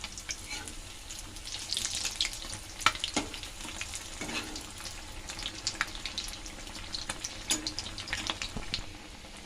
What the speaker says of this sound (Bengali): আগে এটা ভেজে নিই আমি। এই আমার ভাজা, এগুলো উল্টিয়ে দেবো।